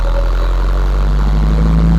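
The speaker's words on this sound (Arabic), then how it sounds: "ادي صوت المكنه اهو" A Jumbo engine idles just after pump and injector tuning, giving a loud, steady, even rumble with a low hum and no stumbles, close by and with no voices.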